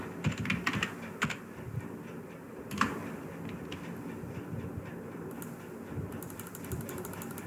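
Typing on a computer keyboard while entering text into a PowerPoint text box, with scattered key clicks in short bursts over a steady background hum, with no talking.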